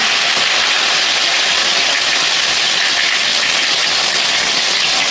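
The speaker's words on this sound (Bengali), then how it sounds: "টমেটো কুচি লঙ্কা কুচি টমেটো আর লঙ্কা কাঁচা লঙ্কা দিয়ে দিলাম" Chopped tomatoes and green chillies hit hot oil already tempered with bay leaf, dried red chilli and whole cumin, giving a loud, steady, close hiss that runs without a break.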